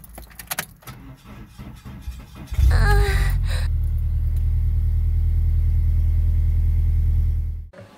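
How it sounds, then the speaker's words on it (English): A car with a weak battery failing to start: a few clicks and a jangle of keys, then a sluggish starter grinding in a long, steady low drone for several seconds before it cuts off. "I'll provide the clip right now of me trying to turn on my car with a weak battery."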